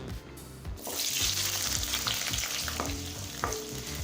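Shallots sizzle loudly in hot oil after being dropped into the pan for curry leaf kuzhambu, with occasional stirring scrapes through the steady crackle.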